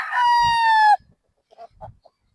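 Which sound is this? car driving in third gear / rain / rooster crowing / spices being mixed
rooster crowing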